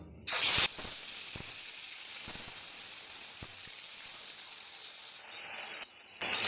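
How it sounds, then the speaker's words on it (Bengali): Fish frying in hot mustard oil in a wok gives a loud burst of sizzle as the pieces go in, then settles into a steady close hiss with a few faint taps, flaring up again at the end. "তেলটা গরম হয়ে গেছে এবার মাছগুলো একে একে দিয়ে দেবো"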